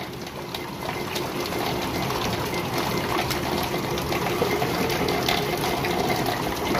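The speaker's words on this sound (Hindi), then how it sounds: "ये पानी आ रहा है भाई हमारे बर्तन" Rainwater pours steadily into containers being filled for a tank, a continuous splashing, gushing flow of water close by, with no one talking.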